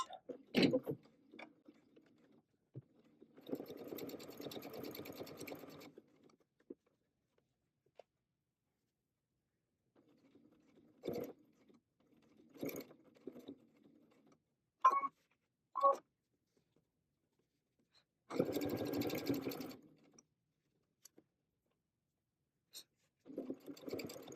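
A sewing machine stitches around a fabric Valentine heart with a quarter-inch seam, running in several bursts of motor whir and needle clatter separated by pauses and short clicks as the presser foot is adjusted; no talking.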